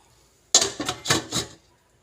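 A lid set down over a cooking pot, a sharp metallic clank followed by three quick rattling knocks as it settles, close and alone in an otherwise quiet kitchen.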